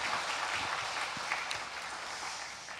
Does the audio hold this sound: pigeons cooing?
no